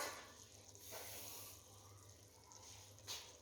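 Water from a cup pours into a cooking pot of chicken and lentil curry with a soft splashing trickle, quiet and close, with no talking.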